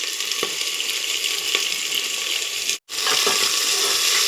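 Onions with chilli, cumin and salt frying in a pan toward golden brown, giving a steady, dense sizzle with faint scattered clicks and a brief dropout near the end; no voices.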